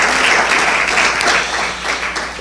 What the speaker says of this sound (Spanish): Dele un aplauso fuerte a Jesús